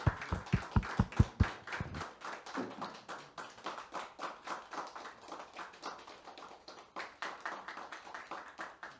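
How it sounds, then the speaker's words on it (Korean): Audience applause at a Korean accountants' association ceremony after a commemorative plaque is presented, starting with a few loud, close claps that swell into steady, moderate clapping from a room of people. "뜨거운 박수로 축하해 주시기 바랍니다"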